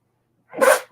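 A single sharp sneeze, loud and close, bursting out abruptly after silence and lasting under half a second.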